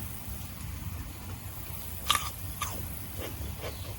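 A small, fresh garden vegetable is bitten and chewed up close, with a few soft crunches and moist chewing sounds over a quiet outdoor background.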